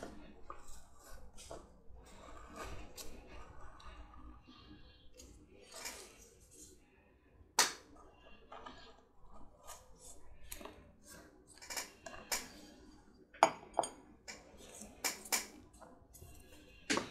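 Leather pieces for a historic jack mug being cut, heard as quiet close snips and scissor-like clicks scattered irregularly over a low background, with no speech.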